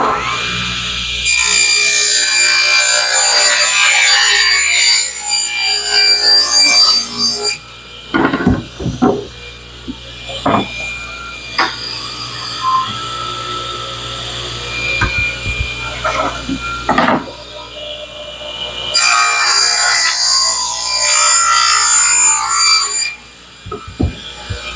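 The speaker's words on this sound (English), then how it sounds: "we're going to start by cutting the bottom piece of plywood down to 20 inches long by 16 wide" Woodworking cut of a plywood bottom panel to 20 by 16 inches with a power saw, loud whining bursts at the start and again near the end, with quieter handling knocks and scraping in between.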